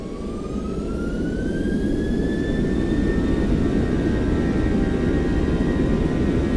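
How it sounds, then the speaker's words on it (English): Boeing 737-900ER jet engines spooling up to takeoff thrust in the X-Plane flight simulator, a loud steady roar with a rising whine that holds constant throughout, no voices. "Stabilized, set takeoff thrust."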